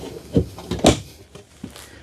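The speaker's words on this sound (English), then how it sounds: "And you have your drawer right here." A drawer in an Alliance Delta travel trailer RV sliding open and shut, a couple of close wooden knocks and rattles in quick succession, then a softer bump.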